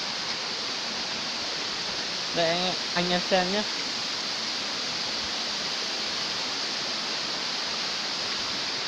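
A mountain stream in Hmong highland country pours over rocks in a steady, even rush of water that fills the whole stretch, with someone speaking briefly over it near the start.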